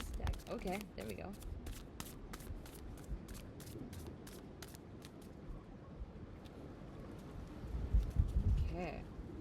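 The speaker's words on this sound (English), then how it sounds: "shuffle through this deck" A deck of tarot cards being shuffled, rapid riffling bursts of card flicks at the start, then softer handling, close and fairly quiet with a voice talking over much of it.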